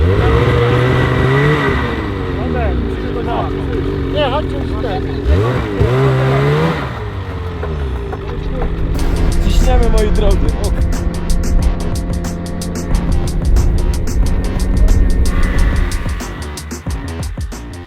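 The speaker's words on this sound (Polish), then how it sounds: "to skuter trzeba wyciągnąć ze śniegu" A snowmobile engine roars and revs loudly and steadily as it is pulled out of snow, its pitch rising and falling, while people shout briefly over it.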